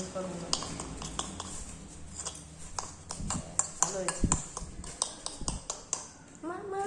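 A spoon clatters and scrapes against a cooking pot while grape curry is stirred, with rapid irregular metallic clinks and taps. Voices talk faintly underneath.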